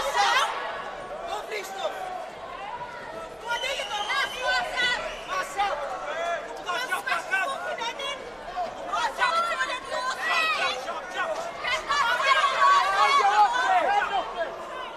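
A passionate crowd at a live pro boxing fight night, a steady babble of many voices with bursts of shouting and cheering rising and falling, fairly close, louder toward the end.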